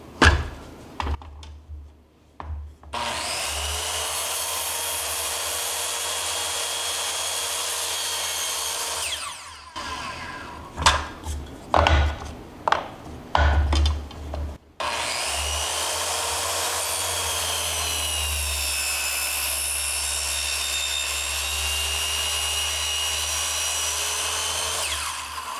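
A circular saw makes angled 60-degree cuts in wood for a hexagon shelf, with a loud sustained whine that stops, a stretch of knocks and handling clatter, then another long cut running steadily to the end.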